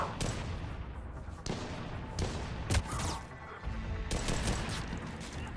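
Rapid gunfire from pistols in the video game Mass Effect 3 Legendary Edition, modded, with repeated sharp shots in bursts over continuous combat noise, fairly loud throughout.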